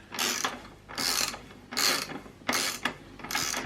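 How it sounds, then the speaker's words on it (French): Ratchet loosening the rear wheel axle nut on a 1993 Honda Transalp 600 motorcycle, five loud rhythmic clicking strokes close up, each a burst of rapid pawl clicks with short pauses between. "Je vais desserrer la roue."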